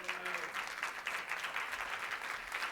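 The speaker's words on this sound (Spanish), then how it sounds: "Xavi, un aplauso." An audience at a live talk show applauds in a lively, rhythmic burst of clapping, with a voice briefly audible at the start before the clapping takes over.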